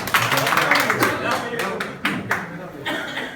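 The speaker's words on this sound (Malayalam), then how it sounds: "നന്നായി നിങ്ങൾ കൈയടിക്കും." An audience at a KMCC Sargadhara stage event claps in a sustained burst of applause that rises and tapers with short pauses, with talk mixed in.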